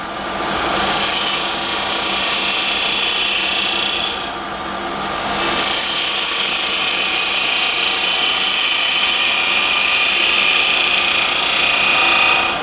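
A lathe tool scrapes steadily against spinning punky hornbeam, a loud, close, continuous rasping hiss with a brief dip near the middle before the cut resumes.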